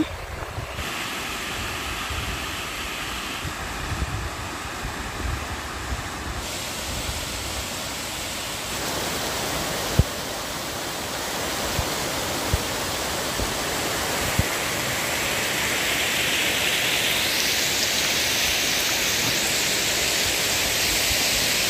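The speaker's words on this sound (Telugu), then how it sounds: "రతిబల వాటర్ ఫాల్ దగ్గర అయితే మనం ఉన్నాము" The waterfall at Ratibala in a deep forest valley gives a steady, broad rushing roar, constant and enveloping for the whole stretch, with a few faint knocks and no talk.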